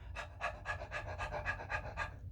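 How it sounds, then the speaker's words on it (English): Rapid rhythmic nasal panting from a breath of fire breathing exercise, about nine quick even exhalations in two seconds, close and fairly quiet with no talking. "the breath of fire, which is like the dog"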